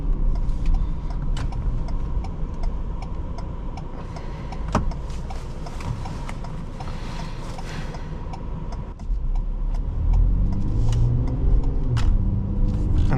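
A Ford Police Interceptor Utility Hybrid 3.3L pulling away under throttle, a steady low engine and road rumble heard from inside the cabin, swelling louder in the last few seconds, with faint ticking above it.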